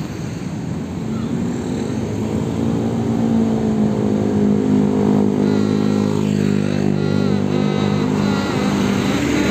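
A Sumber Alam bus passes along a road during post-Lebaran return traffic, its engine a steady, fairly loud drone that swells slightly toward the middle with a sustained low hum throughout.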